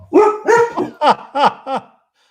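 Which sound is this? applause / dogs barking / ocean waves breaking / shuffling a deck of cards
dogs barking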